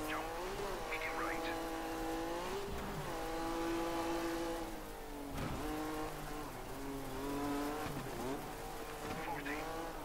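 A race car engine in the video game Dirt 3 revs continuously, its pitch rising and falling through gear changes while tires squeal in turns, with a voice talking quietly over it.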